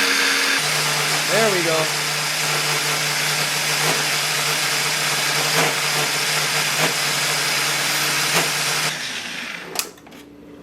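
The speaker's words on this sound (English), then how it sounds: "just gonna blend that up. Get it in a single serve." An amaranth and pawpaw smoothie whirring in a blender, a loud steady motor drone that holds for about nine seconds before winding down, with a brief spoken remark over it near the start.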